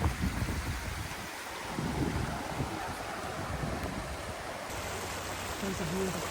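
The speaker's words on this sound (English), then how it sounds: "This creek comes from the pond that we just camped by." A small creek fed by a pond rushes along the Appalachian Trail, producing a steady, close broadband wash of flowing water, partly blended with gusty wind buffeting the microphone.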